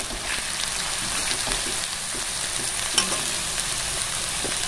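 Onion, carrot and egg frying together in oil for egg chowmein: a steady, close crackling sizzle with a brief utensil knock partway through.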